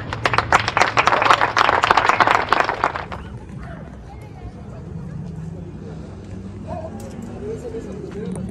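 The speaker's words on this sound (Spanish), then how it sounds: "Un aplauso para ustedes." Applause from an audience at a cycling event in Mexico City, a burst of brisk clapping for about three seconds that stops abruptly, leaving quieter outdoor background with faint voices.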